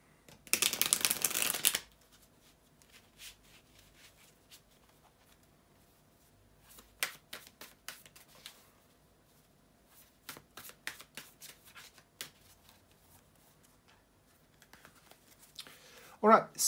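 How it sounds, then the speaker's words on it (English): Tarot cards are shuffled in a loud riffling burst at the start, then followed by scattered soft taps and flicks of cards handled in quiet pauses, with another brief shuffle near the end. "bear with me just a second, guys, to shuffle the tarot cards"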